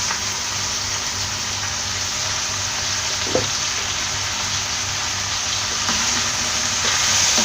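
Tomatoes, chopped coriander and mint going into a frying pan for Kottayam-style chicken biryani, giving a steady, close hiss of sizzling oil with a faint clink partway and no talking.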